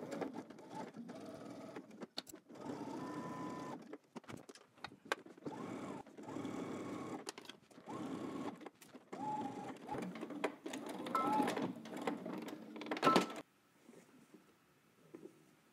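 A sewing machine stitches in the ditch along a seam of McCall 8292 pants using an edge stitch foot, running in steady close bursts with brief pauses, then stopping near the end.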